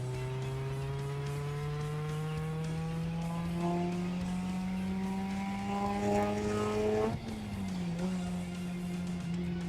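A Mazda RX8 with a single Gonzo muffler and a changed diff ratio accelerates hard, its engine note climbing steadily through one gear before a quick shift drops the pitch and it pulls again, loud and close.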